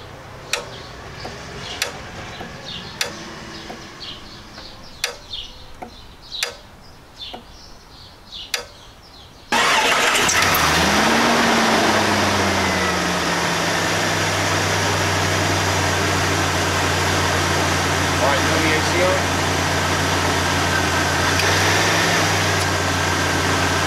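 Quiet ticking and faint birds give way to a 2000 Jeep Cherokee XJ engine roaring to life, then an idle hum with a low whine from the A/C clutch engaging and cycling.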